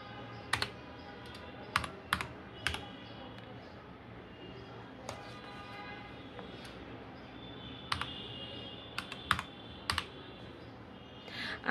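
Sparse computer keyboard typing while entering axis labels in an Excel spreadsheet: short clusters of crisp key clicks separated by pauses, over a low steady room hum.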